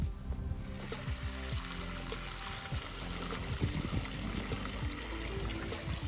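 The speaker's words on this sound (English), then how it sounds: "I'm gonna go ahead and cut my waterfall back on." A DIY backyard pond waterfall runs steadily, a continuous splashing and trickling wash of water that stays close and fairly even throughout.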